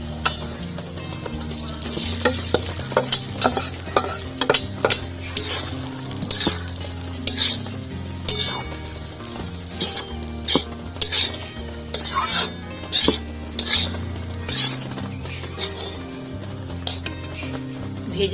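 Soaked flattened rice (poha) for chirer polao fries in a pan, with a metal spatula clinking and scraping against the pan in frequent sharp strokes over a soft sizzle, close and busy.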